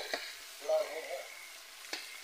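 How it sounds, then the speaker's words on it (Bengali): Chicken curry sizzles softly in a pan as water is poured in, with a faint hiss and a couple of short clatters near the start and end, quiet and close. "জল ঢেলে দিচ্ছি"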